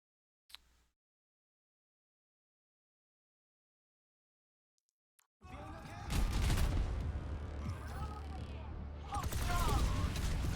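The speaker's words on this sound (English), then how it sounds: "And then you have Pharah shooting rockets in as well." Pharah firing rockets during an Overwatch 2 match: after a near-silent start with one brief blip, a dense, loud barrage of explosive bursts and gunfire fills the second half, with voice-like sounds mixed in.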